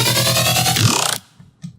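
Synth bass from an electronic music production, processed with harmonic saturation and high-frequency cuts, plays a loud, sustained buzzy note for about a second before cutting off, followed by a short faint blip.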